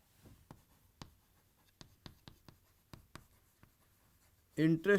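Pen strokes scratch across paper while working a financial accounting problem, a series of short, sharp taps and scrapes in an irregular rhythm, close and fairly quiet, ending with a brief burst of voice.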